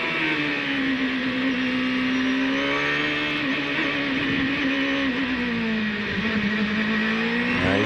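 Onboard sound of Adrian Fernandez's CART race car during 2002 qualifying at Monterrey, its engine holding a loud, sustained high-pitched scream that rises and dips slightly with throttle, close and continuous with no talking.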